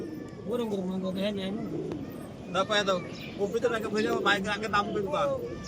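Pigeons coo at a Beldanga Haat market, their low rolling coos repeating near the microphone while someone talks over them.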